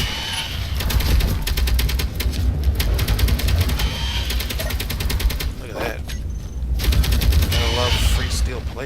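Automated turrets in Space Engineers firing on a spider attack, dense bursts of rapid gunfire rattling continuously with brief pauses, loud and close, with a voice talking over it.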